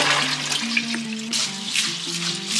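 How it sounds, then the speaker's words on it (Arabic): Tap water runs steadily into a bowl of rice being washed, a close splashing hiss with small sloshing bursts as the grains are stirred, over a short stretch. "وهلا راح نغسل الرز وننقعه شويه"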